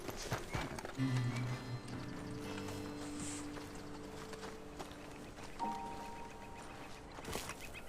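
Horse hooves clip-clop in Red Dead Redemption 2, with a faint whinny and soft mechanical creaks nearby, fairly quiet and steady, without any talking.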